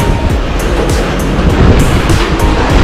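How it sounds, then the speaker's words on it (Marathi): Sea surf surging through Bamanghal, a narrow rock gorge about 35 feet long and 2 feet wide on the coast at Hedvi, as a steady loud wash of water with repeated crashing bursts and no voices. "म्हणजे दगडांमधून पाणी"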